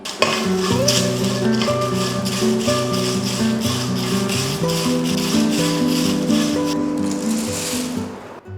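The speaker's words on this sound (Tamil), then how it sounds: "காய வச்ச கருவேப்பில அது கூடவே நம்ம கிள்ளி வச்சிருக்கிற வரமிளகா ரெண்டையுமே வறுத்துக்கலாம்" Dried curry leaves and red chillies dry-roasting in a pan, a loud close rustling rattle and sizzle as they are stirred continuously, with steady tonal background music underneath.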